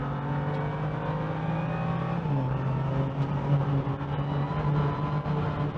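A 580hp BMW M2 engine pulls hard around a race track on a cold, snowy day, its continuous loud roar rising and falling with shifts, close and unbroken, with no voices.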